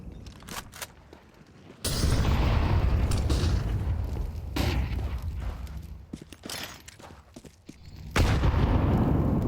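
A grenade explodes during a professional Counter-Strike match on the Dust 2 map: loud booming blasts and bursts of gunfire come in waves, with sharp cracks between them and dense rumbling noise from the game.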